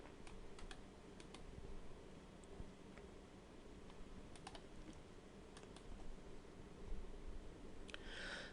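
Quiet, sparse clicks of computer keyboard arrow keys being pressed one at a time, with irregular gaps, over a low steady room hum.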